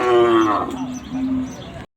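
A single loud, drawn-out cow moo close by at a cattle market in Chandaikona, dropping in pitch and trailing off, followed by a brief silence.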